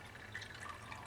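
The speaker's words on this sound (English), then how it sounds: "we are going to take our bleach and water solution and we are going to pour it" A bleach and water solution is poured gently into a funnel feeding an air conditioner condensate drain line, giving a soft, continuous trickle and faint dripping, quiet and alone.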